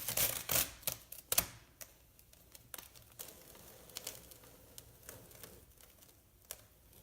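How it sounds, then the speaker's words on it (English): A Chalk Couture transfer peeled up from a surface, making sharp crinkling and tearing crackles at first, then sparse faint ticks and rustles, close and fairly quiet without speech. "I'm gonna peel this up just a little bit more"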